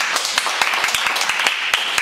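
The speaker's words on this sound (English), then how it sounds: "Let's give them a round of applause." A small group claps steadily and loudly, close by, with a brisk irregular rhythm of individual hand claps.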